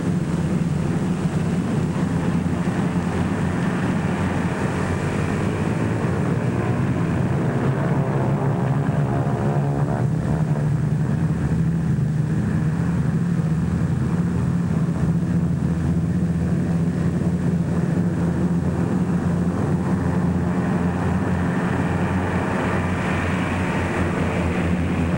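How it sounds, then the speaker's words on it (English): More than a score of United States Liberator bombers warm up on a North African airfield, their propeller engines producing a loud, continuous droning roar with a steady low throb that stays constant throughout. "More than a score of United States liberators warm up for the takeoff from a field somewhere"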